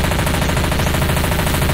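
Sustained automatic gunfire in the zombie shooter game Left 4 Dead 2, loud, dense and continuous rapid bursts filling the whole stretch with no voices over it.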